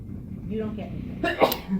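A single sharp sneeze bursts out near the end, following a person speaking in a lecture setting.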